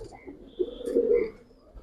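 A giribaz pigeon gives a single soft, throaty coo of about a second, close and fairly clear against a quiet background with a faint chirp above.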